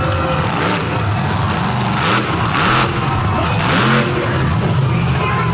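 PEI-chassis monster truck at a Benson, North Carolina night event doing two-wheel stunts, loud engine revving in rising and falling surges with crowd and arena noise.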